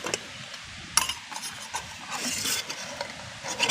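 A camping cook kit for a two-night hammock trip being handled up close, with scattered metallic clinks, rubs and scrapes of pots and utensils knocking together in an irregular rhythm.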